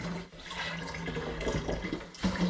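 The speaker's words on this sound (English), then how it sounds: "litres of apple juice will be going in here" Store-bought apple juice pouring into a plastic wine fermenter, a continuous close splashing gush that runs loud and steady for the whole stretch, with no talk.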